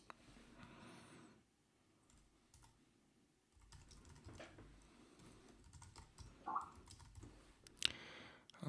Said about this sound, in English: We'll just type in any address.